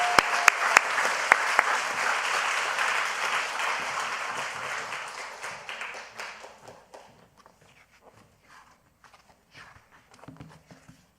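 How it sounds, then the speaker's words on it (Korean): Congregation clapping to encourage a boy coming up to give testimony at a church new-family school graduation and baptism service, loud at first, then thinning out to scattered claps and footsteps. "우리 박수로 응원하겠습니다."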